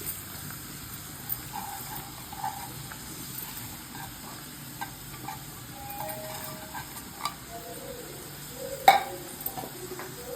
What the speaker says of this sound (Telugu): ఇలా ఒకసారి నూనె వేసి ఉల్లిపాయ పచ్చడికాయ వేసేసి